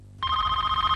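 A telephone rings in a steady electronic trill that starts abruptly and carries on alone, loud and close, with a faint low hum underneath in an indoor setting.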